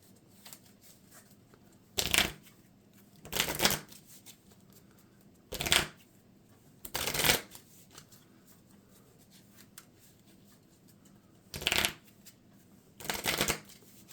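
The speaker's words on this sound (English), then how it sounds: "And then we're going to shuffle his deck to give him that second boost card." A deck of cards for the Marvel Champions card game is shuffled close by in six quick riffle bursts, each about a second long and separated by quiet pauses, with no talking.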